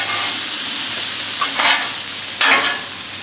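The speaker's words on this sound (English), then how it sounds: "Give it a good toss." Brussels sprouts and bacon sizzle steadily on a Blackstone griddle, with two brief louder bursts as the pan is tossed and stirred, no voices.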